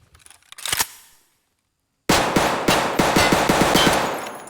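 A Saiga 9 fires in Escape from Tarkov: a single short pop is followed by silence, then a rapid, loud, steady run of about a dozen close shots that continues to the end.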